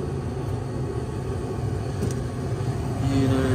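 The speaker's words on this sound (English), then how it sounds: "Heater is working. Blower's on. She's heating." A York furnace blower runs after a White Rodgers electronic gas valve replacement, giving a steady low rumbling whoosh close by that swells slightly louder near the end, with no talk.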